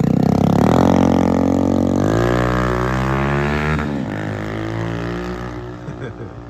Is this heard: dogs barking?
no